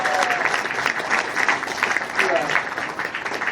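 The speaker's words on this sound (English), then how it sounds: "can I get one more round of applause for your bartender and your waitresses tonight?" Comedy club audience applauding the bartender and waitresses, a dense, steady wash of clapping filling the room for several seconds at fairly even loudness.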